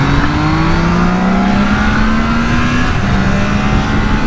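Engine of a 2023 Triumph Trident motorcycle revving hard toward its roughly 10,000 rpm limit, a loud continuous rising drone heard close while riding, with steady wind rush and no talk.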